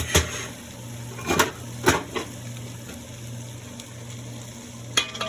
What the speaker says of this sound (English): we'll start sauteing the veggies